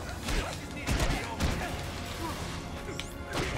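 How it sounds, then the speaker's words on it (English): Rapid gunfire and impacts in The Amazing Spider-Man on PlayStation 3, a burst of sharp cracks and thuds in quick succession, loud and close over busy game action. "I'm getting shot. Not good. Okay, I need to avoid gunfire."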